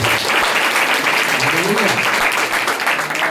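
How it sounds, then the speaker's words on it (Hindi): Church congregation clapping during worship, a dense steady wash of applause throughout, with a voice calling out briefly underneath. "परमेश्वर के ताली बजाए।"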